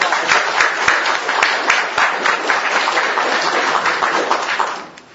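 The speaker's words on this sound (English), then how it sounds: "Let's give everybody a big round of applause." An audience gives a big round of applause: dense, steady clapping from many hands that fades out at the end.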